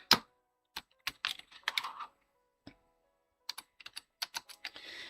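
Keystrokes on a keyboard plugged into an Xbox 360 come in short clusters of sharp, close clicks separated by brief pauses, with no voices.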